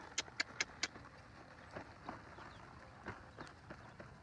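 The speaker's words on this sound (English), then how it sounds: "Let's go circle left at the trot." Hoofbeats of a horse trotting in a circle on soft ground while working cattle, a few sharp clops at first then lighter, irregular steps, moderately distant and faint.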